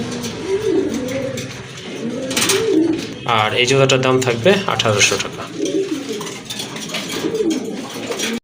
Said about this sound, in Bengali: চমৎকার এক জোড়া কবুতর